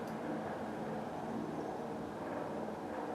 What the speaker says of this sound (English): Okay, I think you can hear me over the helicopter now.